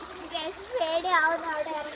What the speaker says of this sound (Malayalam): അവിടെ ഇത്തിരി നല്ലപോലെ വെള്ളം ഒഴുകുന്നുണ്ട്